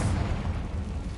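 A Confringo spell explodes in the Hogwarts Legacy video game, producing a short, dense, rumbling burst that stays loud and broad for just over a second, with no voices.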